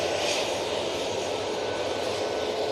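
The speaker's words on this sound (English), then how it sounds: "Tui coming on right in front of us." A Tui Boeing 737-800 jet moves close by at Manchester Airport, its engines a continuous loud, even roar with a faint whine, and no talking.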